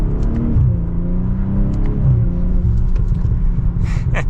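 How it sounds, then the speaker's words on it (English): A 2024 BMW M340i xDrive with the B58 mild-hybrid engine pulling away, a loud, close, low exhaust rumble with rising revs under steady acceleration throughout. "setting off now in the 340"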